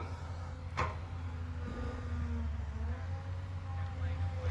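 A tractor working a rice field that is being leveled and filled, its low steady engine drone running continuously in the background with a brief sharp knock near the start.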